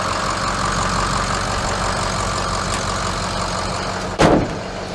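A hotshot pickup truck used for car hauling idles up close with a steady, loud engine rumble, broken near the end by one sharp clunk.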